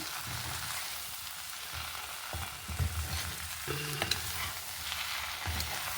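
Aloo capsicum curry seasoned with vangibath powder being stirred in a pan: a quiet, low sizzle broken by scraping and clinking of the spoon against the pan, with no voices.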